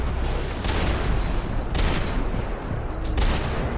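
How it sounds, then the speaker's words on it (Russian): Dense, continuous gunfire in the video game Max Payne 3, a loud barrage of overlapping shots and booms with a few sharper bursts standing out, no voices over it. "Кто еще стреляет откуда-то?"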